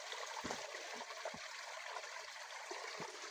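Water of a clean river in Montalban, Rizal flows and trickles steadily in a continuous hiss, with a few soft gurgles and low bumps breaking through now and then.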